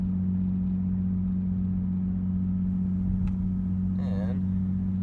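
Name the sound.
Nissan 350Z rear-mount turbo car cruising in gear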